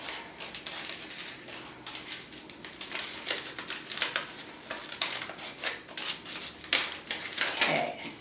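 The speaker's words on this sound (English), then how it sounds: "So we're gonna fold it, snip, and then we're going to cut around that eye." Scissors snip through paper while cutting out the eye holes of a mask, a run of short crisp clicks and cuts, fairly close and with no talk over them.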